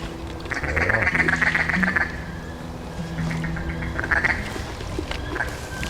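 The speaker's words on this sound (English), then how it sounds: "Some wood ducks kind of flying, buzzing around as that sun breaks the horizon." Wood ducks squeal and call in bursts at first light in flooded timber near Stuttgart, several rising whistled cries close by and others fainter, with a low hum of distant traffic underneath.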